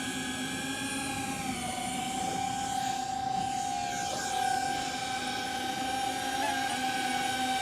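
A DJI Avata 2 drone flying low gives off a steady, loud whine of spinning propellers with strong sustained motor tones, holding close and constant throughout without pause.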